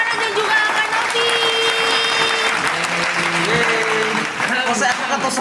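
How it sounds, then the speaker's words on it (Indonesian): Studio audience applause for guests on an Indonesian challenge podcast, a steady loud clapping wash running throughout, with voices talking and tonal music or sound effects layered over it. "sekali lagi tepuk tangan buat Kak Farhan dan juga Kak Novi"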